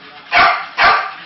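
A dog barks twice in quick succession, two loud, close, sharp barks about half a second apart over a quiet background.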